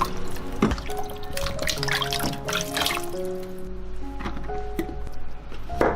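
Straw mushrooms are washed in water, with close drips, trickles and light splashing in an uneven rhythm and occasional soft knocks, no speech.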